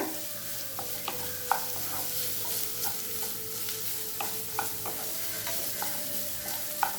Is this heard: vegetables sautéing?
yes